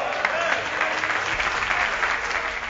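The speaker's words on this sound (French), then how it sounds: "Applaudissements pour nos amis artisans." Audience applause for craftsmen at a gathering, a dense steady patter of many hands clapping, fairly close and continuous throughout.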